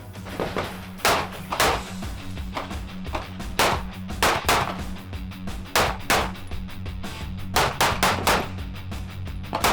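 Sig Sauer P365X pistol fired at a range, sharp loud cracks coming singly and in quick pairs and bursts across the span, with brief pauses between strings and a low background hum.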